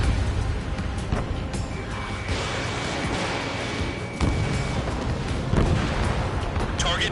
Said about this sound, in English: Spare 15 launching missile.